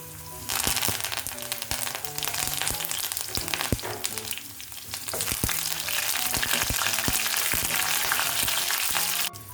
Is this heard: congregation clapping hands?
no